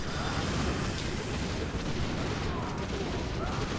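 Panzer tanks firing in a video game battle, a dense rumbling barrage of booms and blasts filling the whole stretch without a break.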